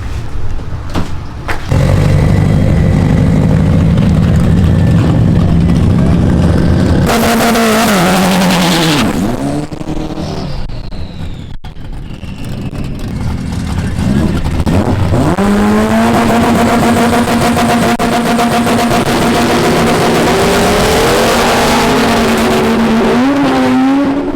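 A loud race car roars close by, engine revving hard then launching and shifting through gears as it pulls away down the strip.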